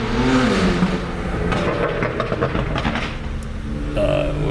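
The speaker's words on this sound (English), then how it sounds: "Yeah, M4 with loud exhaust." A BMW M4 fitted with a loud exhaust roars past on a street, its rumble rising and falling over a few seconds amid traffic noise.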